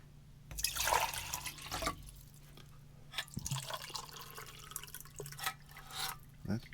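Water poured into a cup and measured out for coffee and hot cocoa at a field ration meal, heard as a quiet splash and trickle with a few separate pours and drips, close by and without talk.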